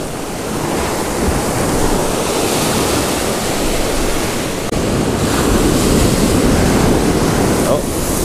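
Ocean surf rolls in at low tide on a beach where surf perch are fished, a steady loud wash of breaking waves with wind buffeting the microphone and no talking.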